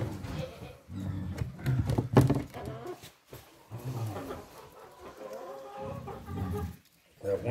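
Hens cluck and squawk in a crowded stall, a dense, loud flock chorus that continues throughout with people talking over it.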